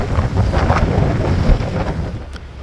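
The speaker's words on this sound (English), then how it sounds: "The winds are still going strong," Strong, steady wind roars across the microphone with a broad rushing noise, faint watery wash underneath, no voices.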